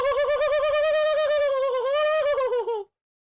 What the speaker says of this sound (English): did someone just let a bird in?